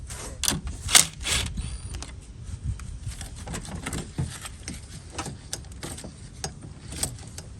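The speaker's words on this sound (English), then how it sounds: "The very first thing we're gonna do is disconnect the battery, 10 millimeter." A ratchet wrench loosens the 10 mm battery terminal nut on a Chevy truck, giving a close, steady run of light clicking and metallic rattles with a few louder knocks, no voices.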